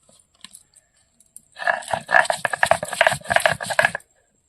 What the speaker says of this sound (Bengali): এবার লঙ্কা বেটে নেবো, লঙ্কা ভিজিয়ে রেখেছিলাম।